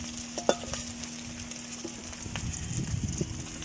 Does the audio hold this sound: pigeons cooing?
no